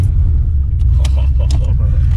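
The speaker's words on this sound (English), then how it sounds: "Nothing sounds better than that V8, man, when you fire it up." 1989 Ford Mustang GT 5.0 V8 idling with a deep, loud, continuous rumble close by, with a few brief clicks and rattles over the low engine drone.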